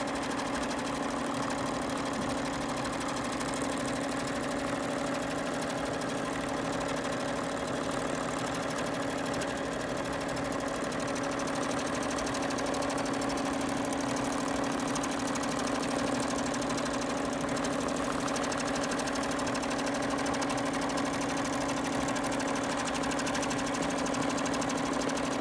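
A sewing machine runs steadily as it quilts a pumpkin pattern along a template, giving a continuous even hum with a fine mechanical stitching rattle and no pauses.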